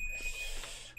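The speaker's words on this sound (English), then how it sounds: "When it comes to at least the old school alarms." Old-school electronic alarm emitting a continuous shrill, high-pitched beep that holds steady for the whole second, loud and close against a faint low hum.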